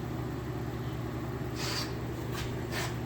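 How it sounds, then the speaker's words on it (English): A low, steady mechanical hum drones continuously from the compressor of a working 1970s Vendorlator can vending machine, with a few faint soft hisses rising briefly over it. "Nice quiet compressor. You can hear it purring away down there."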